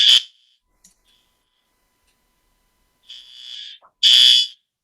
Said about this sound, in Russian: the fire alarm in my building